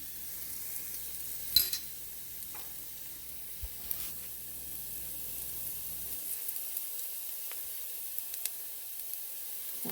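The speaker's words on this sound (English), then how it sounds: "Let's get that garlic in the pan." Garlic and coriander frying in a pan give a quiet, steady sizzle and hiss, with a few clicks and scrapes from stirring. No one speaks.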